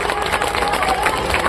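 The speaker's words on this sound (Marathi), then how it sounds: "यासाठी एकदा महासंघ आणि विजुक्ताच्या करिता टाळ्या होऊ द्या सर्व मंडळींनी" Crowd applause at a teachers' protest rally in Nagpur, a steady dense wash of many hands clapping, loud and continuous throughout, with a voice faintly mixed in.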